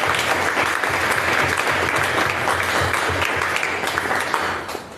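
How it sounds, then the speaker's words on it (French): A church congregation claps for Jesus Christ in dense, sustained applause that fills the room, loud and continuous for the whole stretch before easing slightly at the end. "Acclame Jésus-Christ."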